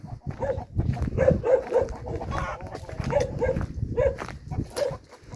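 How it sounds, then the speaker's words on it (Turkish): Dogs bark repeatedly at a moderate distance in a village, a steady run of yaps and barks with brief gaps, no one talking over them. "Arkada Ekrem dayının köpekleri var."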